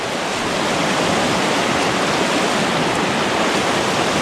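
Fast-flowing river water rushing steadily and loudly, a dense, unbroken broadband roar filling the whole stretch with no voices over it.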